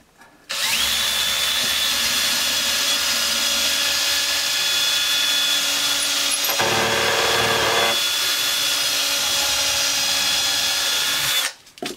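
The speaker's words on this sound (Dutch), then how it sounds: "Ik ga eerst even zorgen dat ik het voor heb geboord." A power drill pre-drills holes in wooden planks for hallway shelving, whining loudly and steadily for about eleven seconds with a brief shift in pitch midway before it stops.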